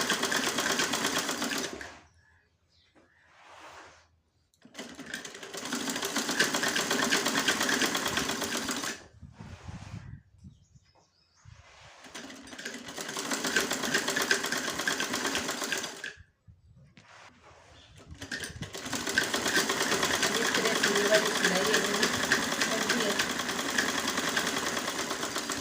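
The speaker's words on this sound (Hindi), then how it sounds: "इस सलवटे को इस तरह से हम इसमें सिलाई करेंगे" A sewing machine stitches pleats into an Afghani salwar in three long, loud runs of steady motor whirring, broken by short pauses with faint handling noises between bursts.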